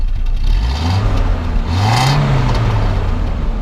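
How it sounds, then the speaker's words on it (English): A 1979 Volvo 242 with four-speed overdrive revs up loud and close, its engine note rising twice in steady mid-pitched swells with no voices over it. "Let's go ahead and rev it up a little bit."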